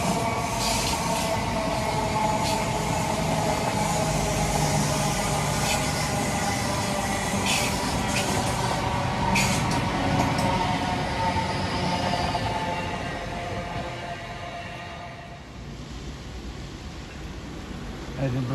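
A late-running mainline train passes Kennaway Tunnel at Dawlish with a loud, steady rumble and brief wheel squeals, fading away toward the end.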